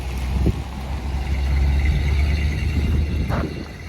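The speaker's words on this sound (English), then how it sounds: "as soon as these cars get out of the way" Cars pass along a street in Tombstone with a low, rumbling engine drone that swells and fades, moderately near, with no talk over it.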